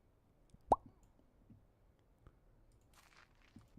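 A seed is sown in a video game with a single soft, close plop that stands out against faint low background noise, followed by near silence.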